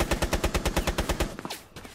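Rapid automatic gunfire from a video game, about a dozen evenly spaced loud shots in a fast steady rhythm, then a brief ragged tail of a few quieter cracks.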